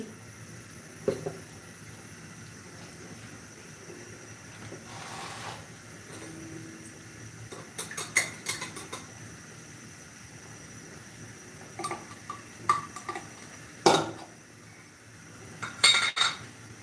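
A spoon scooping ghee from a container while cooking pulao, with scattered soft metallic clinks and scrapes against a quiet room hum, a few sharper taps near the end.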